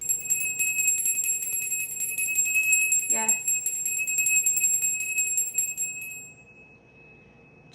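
A small bell is struck once partway through a candlelit reading, its bright ring cutting over steady sustained tones, while a voice briefly speaks nearby.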